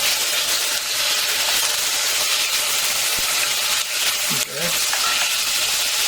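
Chopped onions and minced garlic sizzling in a soup pot for minestrone, a steady bright frying hiss that runs throughout, with faint stirring and a brief spoken word.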